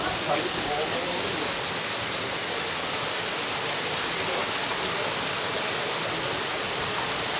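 A small stream flows beneath a restaurant in a village near Trabzon, giving a steady, full rush of water that stays constant throughout with no breaks.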